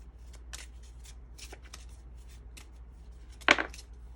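Tarot cards being shuffled by hand, a series of soft papery riffles and slides at close range, ending in one louder snapping riffle.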